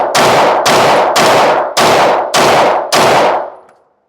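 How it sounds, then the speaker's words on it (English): Six pistol shots from a Ruger firing Federal Syntech 115 grain ammunition ring out close and loud at an even pace, each a sharp crack with a short decay, the last one trailing off into silence. "next up we're going to shoot the Federal Syntech 115 grain"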